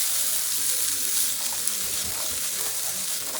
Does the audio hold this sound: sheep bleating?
no